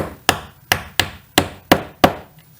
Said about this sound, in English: Let me just give this a little bit of a tap with a hammer.